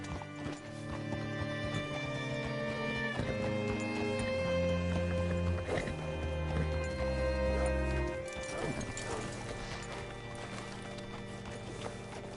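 Hooves clip-clop steadily from a horse in Red Dead Redemption 2, a close rhythmic plodding over a layered musical score, with an occasional snort and brief shifts in pace.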